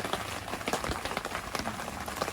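Rain patters steadily on a camper roof during a camping trip in Wharton State Forest in New Jersey's Pine Barrens, a dense, even drumming of drops close by with no voices.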